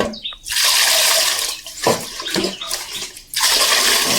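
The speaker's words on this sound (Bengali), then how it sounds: "এইগুলো চাল কিন্তু ভালো করে 2-3 বার ধরে ভালো করে ধুতে হয়, না ধুলে এই সাদা চালগুলো বের হবে না।" Rice grains being washed and stirred by hand in a bowl of water, a close, loud sloshing and swishing with brief pauses between stirring motions, no speech.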